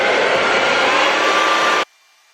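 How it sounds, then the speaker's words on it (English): A hair dryer with a diffuser attachment drying curly hair blows as a steady, loud, close whoosh for almost two seconds, then cuts off abruptly into near silence. "What I like to do basically is just start shaking the diffuser in my hair."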